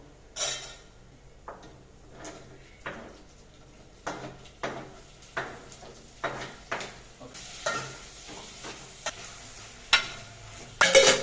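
Cashews frying in a pan on a home stove, with a steady sizzle and repeated scraping stirs and clinks of a spoon against the pan, each stroke sharp and close, no voices.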